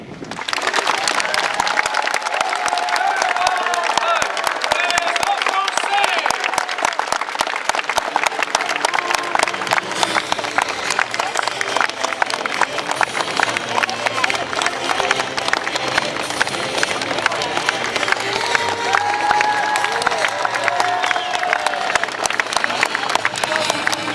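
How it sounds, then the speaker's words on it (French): A crowd at a medieval knights' show during a wool fair in Châteaudun claps and cheers steadily, dense applause throughout with a voice calling out over it. "Peuple de Châteaudun, acclamez maintenant comme il se doit ces fiers et vaillants chevaliers."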